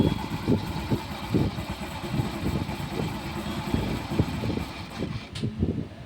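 A TVS Jupiter scooter engine with a pickup problem runs close by, its chamber opened for clutch inspection, giving a steady pulsing idle with a rhythmic low knock throughout.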